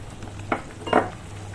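Fried lentil fritters dropped into simmering curry in a pan, two short soft splashing knocks over a faint low hum, close and brief with no talking.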